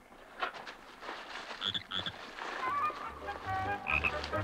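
A toad croaks in a series of short, throaty calls, some paired close together, fairly near and clear over faint background noise with no speech.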